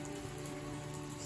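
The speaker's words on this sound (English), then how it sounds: "Oh boy, Livy, it's raining hard." Hard, heavy rain falls steadily outdoors on a rainy fall day, a dense continuous wash of drops spattering nearby surfaces, fairly soft and unbroken, with no voices.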